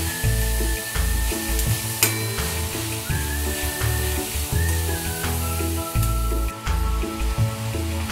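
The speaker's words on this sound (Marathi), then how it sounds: "आता आपण हे थोडा वेळ परतून घेऊया।" Shredded cabbage sautéing in hot oil in a pan, a continuous loud sizzle with occasional clinks and scraping stirs, no one speaking.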